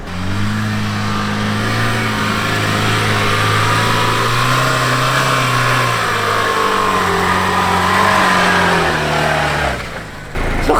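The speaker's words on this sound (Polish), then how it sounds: "Silnik 4000 obrotów, a mam wrażenie, że było 8000" A Lada Niva engine revs hard and continuously at about 4000 rpm while stuck in wet sand, its pitch rising and falling as it strains, loud and close, dropping off at the end.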